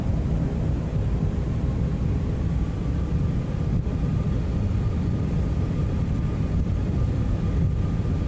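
Airliner taxiing to the gate in the flight simulator X-Plane 12, a steady low engine rumble and broadband whine held evenly throughout, with no talk.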